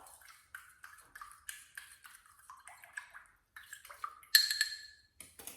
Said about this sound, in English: So I'm stirring it up again. Make sure it's very mixed before I dip in my cotton ball.